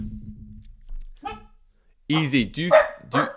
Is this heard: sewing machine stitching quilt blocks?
no